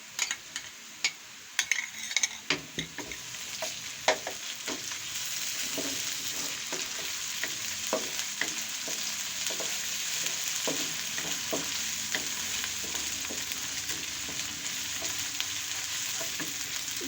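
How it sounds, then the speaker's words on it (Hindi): Ginger garlic paste hits hot oil in a frying pan for dal: loud sizzling at first with scattered clinks and stirring scrapes, then settling into a continuous frying hiss. "अब इसमें हम ये अदरक लहसुन का पेस्ट थोड़ा सा डाल देते हैं।"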